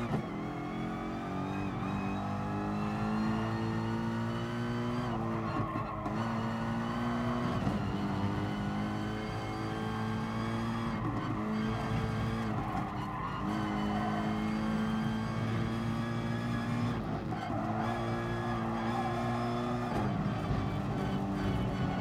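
A race car engine in the racing game GT Sport drones loudly and constantly, its pitch climbing through the gears and dropping each time the car brakes into a corner, with tire squeal mixed in and no talk.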